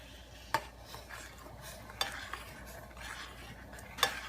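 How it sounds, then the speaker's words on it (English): A spoon stirs vegan cheese sauce as it cooks in a pot, soft scraping under a faint simmer, with three sharper clinks of utensil against the pot spaced a second or two apart. "We're gonna pour this in and stir it as it cooks"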